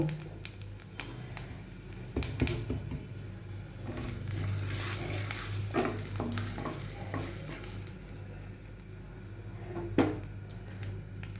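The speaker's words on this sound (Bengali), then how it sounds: "বাটার আর তেলটা গরম হয়ে গেছে, আমি এর মধ্যে সামান্য একটু সাদা জিরা দিলাম, একদম অল্প।" Cumin seeds sizzling in hot butter and oil, a soft, steady frying crackle with occasional taps and stirring clinks, fairly quiet and close.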